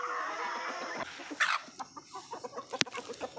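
Chickens cluck and scratch close by as jowar grain is scattered for them in a village yard, with short bursts of clucking and a few sharp, sudden noises.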